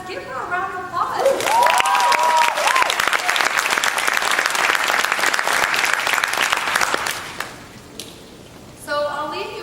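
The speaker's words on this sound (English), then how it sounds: "Give her a round of applause." Audience applause and clapping from a seated crowd at a training talk, dense and sustained for about six seconds before fading out, with a speaking voice briefly heard before and after it.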